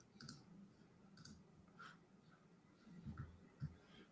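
Faint computer mouse clicks, a few sparse taps spread across a quiet desktop session, with no talking.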